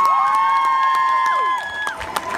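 Concert crowd at a Virgin Radio Live show in Marseille cheering for the singer, with loud sustained whistles over cheers and scattered claps. The noise eases slightly near the end.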